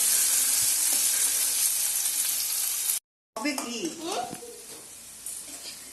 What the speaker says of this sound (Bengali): এখানে পেঁয়াজ, পেঁয়াজগুলোকে হালকা একটু ভেজে নেব।